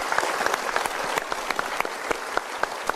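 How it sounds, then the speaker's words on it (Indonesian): Audience applause in a television talk-show studio, brisk close clapping from a crowd, even and continuous for a few seconds. "Kita berikan tepuk tangan dulu."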